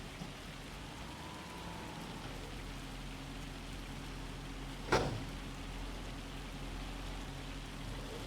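Steady, even patter of rain in Farming Simulator 25 fills the clip, with one brief sharp knock about halfway through.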